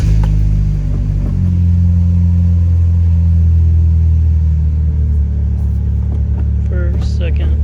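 A Chevy Cobalt with a 2.2/2.4 Ecotec engine and F23 manual gearbox fitted with a short shifter idles loudly and steadily, its low rumble shifting pitch slightly as the gears are worked through, with a few faint clicks toward the end.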